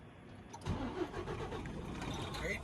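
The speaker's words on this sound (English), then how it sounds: "Then I'm going to start the truck." A 2023 Freightliner truck engine cranks and fires, then settles into a steady, rumbling idle heard from inside the cab, close and continuous.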